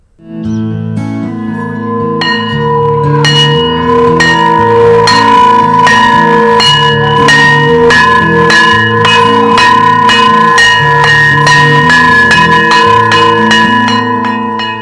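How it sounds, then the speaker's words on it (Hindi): A bell rings out repeatedly with strong, sustained metallic tones that overlap and echo, loud and continuous throughout, with no talking. "स्कूल की एक घंटी करीब 9 महीने बाद फिर सुनाई देने लगी है"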